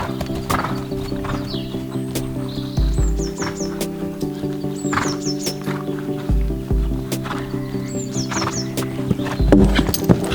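A horse in equestrian jumping training moves over ground with rhythmic hoof clops and a few snorts, while birds chirp in the background and a steady tonal hum runs under everything.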